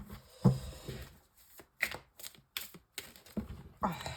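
A deck of Light Seers tarot cards is shuffled by hand in quick irregular bursts of papery riffling and slaps, close and fairly quiet.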